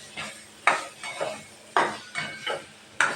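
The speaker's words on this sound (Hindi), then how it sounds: "इसको अच्छे से अब हमको भूनना है।" Moong dal kachori filling roasted in a pan, with about six distinct spoon strokes scraping and knocking against the metal at irregular intervals over a faint sizzle, close up.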